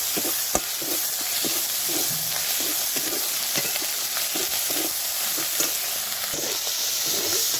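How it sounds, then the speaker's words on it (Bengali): Ground ginger fries with tomato and onion in a pan, giving a continuous bright sizzle and hiss with repeated light stirring scrapes and taps of a spatula, close and steady throughout. "বেটে রাখা আদা দিয়ে দিলাম আদাটাও ভেজে নেব"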